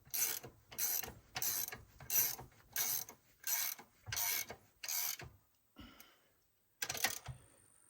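A ratchet wrench tightening a lock nut, heard as eight rapid clicking bursts in steady rhythm, close and clear, then a pause and one final short burst.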